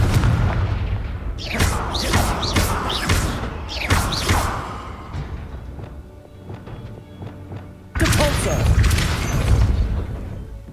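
Confringo fire spells go off in the Hogwarts Legacy video game, with several loud booming blasts in quick succession and another burst near the end, over ongoing game sounds.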